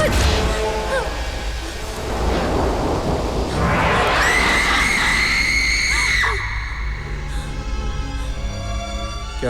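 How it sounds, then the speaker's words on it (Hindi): A woman screams in a Hindi horror thriller scene, a long piercing sustained scream rising over loud storm noise with rumbling thunder and rain, ending abruptly before a quieter tail. "तुमने वो चीखने की आवाज सुनी?"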